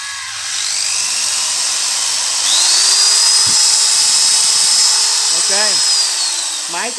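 A Hitachi 110V electric drill runs with a steady, loud whine that spins up, holds through most of the clip and winds down near the end, with a few brief clicks and a quiet voice close by.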